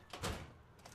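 A door opening in the video game Fallout New Vegas: a single short, soft burst that swells and fades within about a second, with no talking.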